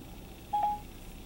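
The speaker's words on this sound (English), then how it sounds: "So let's make a phone call." A single short telephone dialing tone sounds as a smartphone voice assistant places a call, a clean brief beep standing out over a quiet room.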